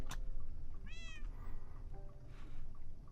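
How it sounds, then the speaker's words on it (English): Single cat meow with a rising-falling harmonic cry, heard indoors over a low steady background hum in a Minecraft modded game setting; no talking. "Why is there a cat meowing in my house?"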